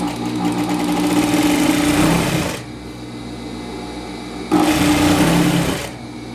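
A sewing machine stitches a mitred corner in two steady runs, the first about two and a half seconds long, then a pause and a shorter second burst, both close and fairly loud.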